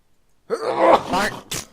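A single sneeze-like voiced burst with a groaning tail, followed by a short sharp exhale, close and abrupt after silence.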